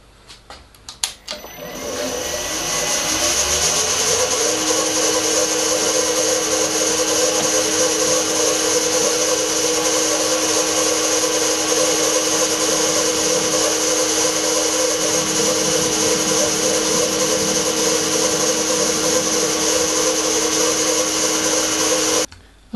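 A milling machine motor spins up and runs at a steady high whine as a centre drill cuts through two 0.5mm metal pieces, a sustained loud drone before stopping.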